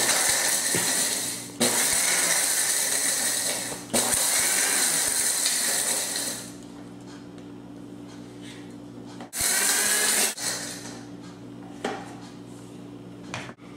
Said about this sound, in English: So now I'm going to grind this, make it into a powder. I'm using a pulse.